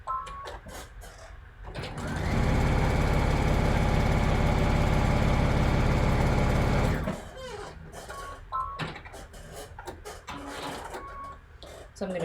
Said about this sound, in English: We're just going to go ahead and sew this piece to this piece